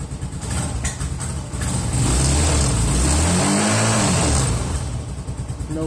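A Romet K 125 motorcycle engine runs steadily, then revs up and settles back in a rising and falling sweep, loud and close throughout with no talking.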